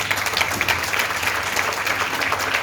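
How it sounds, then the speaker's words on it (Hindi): A crowd at a Vestige live event in the Indian Society of International Law hall claps in dense, sustained applause, loud and continuous throughout. "तो मैं जोरदार तालियां चाहूंगा"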